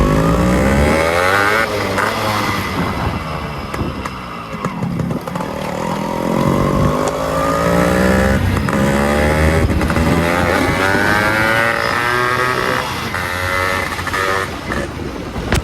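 A Yamaha RX 100 motorcycle engine runs loudly and continuously, its pitch rising and falling as it revs and accelerates close by.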